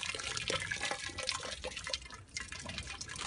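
Hot wax drips and splashes steadily during batik making in Ghana, a busy, liquid patter of close drops throughout, with no speech.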